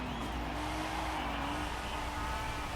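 Holden Commodore Group A race car in Forza Horizon 5, its engine droning loud and steady throughout as it shifts down through a corner, with a faint tire hiss and no talking.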